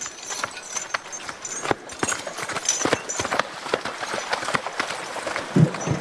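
A horse's hooves clop steadily through slimy mud while pulling a hay wagon, a close, continuous rhythm of wet, squelching steps with creaks and rattles from the wagon.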